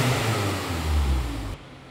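A convertible's engine, a high-revving type, roars at high revs for about a second and a half, loud and close, then cuts off abruptly into a quieter idle-like hum.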